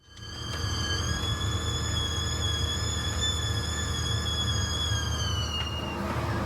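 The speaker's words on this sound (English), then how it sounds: "that noise you can hear is the aircon machine." A portable air conditioning unit runs on lithium battery power inside a dark, hot shelter, giving a steady mechanical hum with high whining tones that holds evenly before tapering at the very end.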